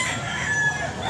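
Boston Roundhead gamefowl rooster crowing at a pet market, a brief, moderately close crow set against a noisy background.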